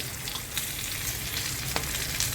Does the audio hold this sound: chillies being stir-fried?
yes